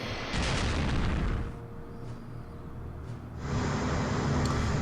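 A battleship firing on a destroyer in the naval war game Strategic Command: loud, roaring cannon blasts that fall to a quieter rumble for a couple of seconds, then surge back into heavy, sustained booming.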